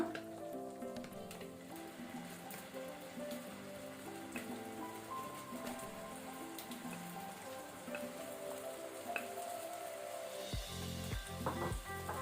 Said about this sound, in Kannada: ಇದನ್ನು ನಾವೀಗ ಮೀಡಿಯಂ ಫ್ಲೇಮ್ ಅಲ್ಲಿ ಫ್ರೈ ಮಾಡ್ಕೊಳ್ಬೇಕು.